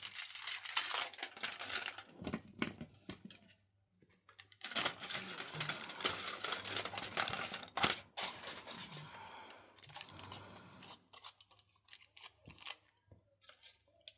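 Scissors snip through paper for junk journaling in close, crisp runs of cuts and rustles, with short gaps where the cutting pauses.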